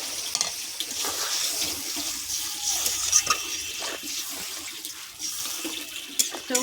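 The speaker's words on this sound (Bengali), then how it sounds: "জল দেবো অল্প করে।" Water trickles and splashes steadily as a small amount is poured into a pan of tangra fish curry with brinjal, a close, continuous watery hiss with no talk over it.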